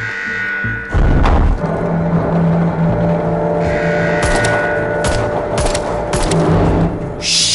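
Gunfire from an odd weapon in the VR game Arizona Sunshine, loud repeated bursts and thumps that start abruptly after a quiet opening, layered over continuous game noise.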